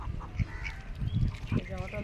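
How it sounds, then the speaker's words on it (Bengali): A flock of many ducks resting, giving repeated nasal quacks and honks close by, with a person talking over them. "দেখো কত হাঁস, কত হাঁস"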